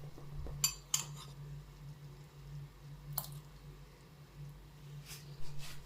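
Spoon stirring lemon juice into mascarpone cream in a bowl, with sparse metallic clinks and taps scattered over a quiet background hum, a few soft scraping touches between them.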